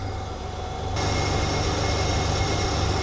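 Steady idle from a BMW E21 323i engine, a low, even rumble heard close by with no talking, rising slightly in loudness partway through and holding there to the end.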